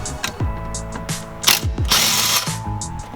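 A hand ratchet backs out a 12 mm screw from the dashboard of a Nissan 350Z. Rapid pawl clicks sound in close, repeated bursts with brief pauses between strokes.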